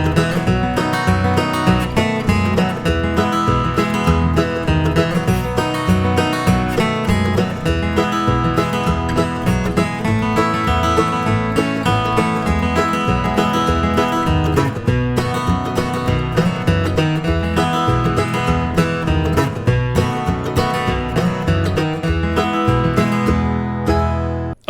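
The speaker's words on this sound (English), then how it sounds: "let me play that up to tempo with a backing track that'll sound like this" Cross-picked acoustic flatpicking guitar playing a song up to tempo over a full backing track, steady and loud throughout with crisp, continuous note attacks and no talking.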